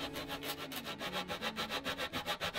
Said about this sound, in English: So more sanding.